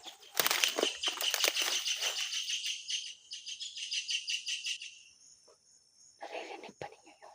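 Birds chirp in rapid, high trills close by, with insect-like buzzing and a few brief pauses between bursts.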